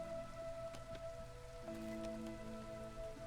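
Light drizzle patters steadily and faintly in the video game Against the Storm, with soft scattered drops over a low, constant background hum.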